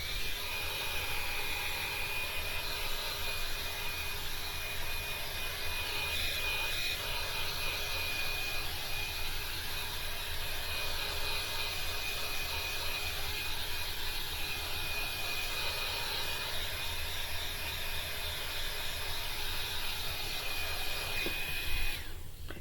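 A fixed high-heat tool drying alcohol ink on paper blows with a steady, loud, continuous whirring roar that runs unbroken for over twenty seconds before cutting off near the end.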